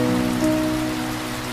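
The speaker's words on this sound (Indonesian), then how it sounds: "hujan pun menghampiri." Rain falls in a steady, dense hiss of drops on a surface, with a faint sustained hum running underneath.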